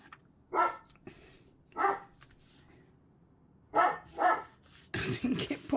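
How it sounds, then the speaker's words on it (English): A dog barks repeatedly indoors, in pairs and short bursts separated by pauses, fairly close and loud, with no talking between barks. "Been on pause for about 10 minutes and it's just continually barking."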